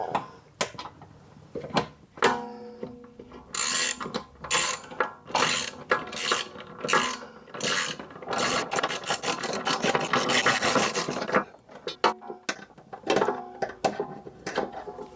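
A ratchet wrench tightens nuts while new rear shock absorbers are fitted to a Jaguar XK8, with close, loud bursts of rapid clicking, separate sharp clicks and metallic rasping in an uneven rhythm.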